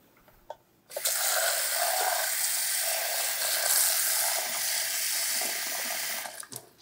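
Tap water runs steadily for several seconds as about twenty eggs are rinsed clean in a kitchen sink, starting abruptly and stopping with a few small splashes and clinks at the end.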